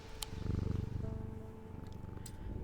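A cat purring close by, a soft steady rhythmic rumble with a couple of faint clicks and movement sounds, no talking.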